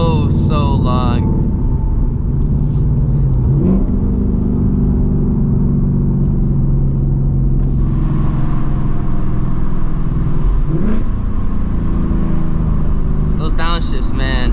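A 2024 Ford Mustang GT S650 V8 rumbles loudly through long gear pulls, its revs climbing and dropping with sharp downshift blips, recorded from inside the car.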